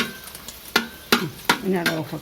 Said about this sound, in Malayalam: അണ്ടി മുന്തിരി ഇലക്ക വറുത്തെടുക്കുന്നു ശേഷം ഉള്ളി കുറച്ചിട്ട് നെയ്ച്ചോറാക്കി എടുക്കുന്നതാണ്